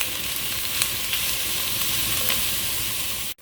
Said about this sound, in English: And that is going to cook with the onion for the next 3-4 minutes as well, until everything gets nice and soft.